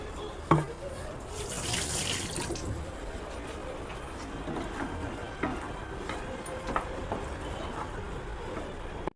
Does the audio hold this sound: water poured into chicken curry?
yes